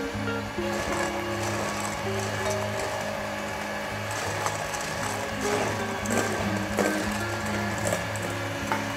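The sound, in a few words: electric mixer whisking ingredients until stiff peaks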